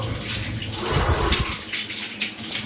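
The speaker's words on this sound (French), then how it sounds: "c'est parti pour la douche froide" Cold shower water runs steadily, a loud continuous hiss and splatter with some fluctuation as the stream hits, no voices.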